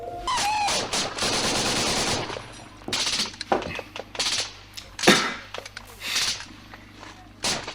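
Real battle gunfire from M4 rifles, loud sustained automatic bursts followed by sharp single shots and short volleys, close and harsh, with faint voices mixed in.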